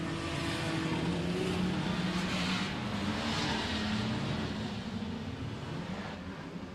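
Streetstock race cars starting a race in New Zealand, a pack of engines roaring together in a steady, loud, continuous drone with rising revs, heard at a distance without talk.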